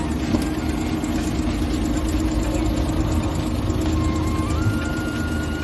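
A Suzuki Every wagon's engine idles with a steady, loud mechanical hum and low rumble, close by and continuous, with no talking over it.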